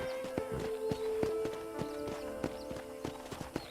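A horse in the western game Red Dead Redemption walks with a regular clip-clop of hooves, close and clear, over a steady low musical drone.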